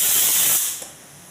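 Steam hissing off boiling water: a loud, close, breathy rush that holds for about half a second, then quickly fades to a faint hiss.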